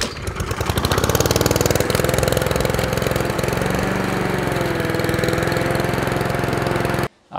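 A Honda lawnmower engine runs at a steady, loud, rapid chugging pulse, close by, then cuts off abruptly near the end.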